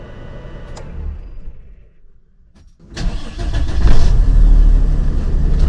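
A 2007 Sprinter van engine idles close by, dips to a brief near-quiet, then surges back with a loud start and a strong, steady running roar, with no voices.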